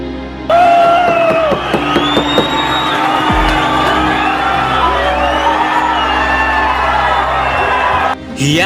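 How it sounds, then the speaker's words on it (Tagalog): A large crowd at a boxing match in Australia roars and whoops loudly in a sustained wave of cheering, with individual shouts rising above the din. "Hiyawan ng mga tao sa bansang Australia dahil sa husay ng Pinoy"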